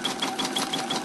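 A sewing machine runs a zigzag satin stitch around an appliqué edge. It makes a quick, even mechanical whir with a regular rhythmic beat, close and steady for about a second, with no talking.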